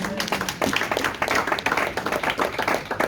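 Church congregation clapping and applauding together in acclaim, a dense, fairly loud burst of many hands in quick rhythmic patter lasting a few seconds.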